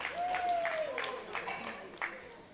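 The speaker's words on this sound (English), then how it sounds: "Give a round of applause, ladies and gentlemen." Scattered, fairly light audience applause at a world classic powerlifting championship, a thin spread of claps with a few sharper hits, mixed with a brief tonal sound near the start.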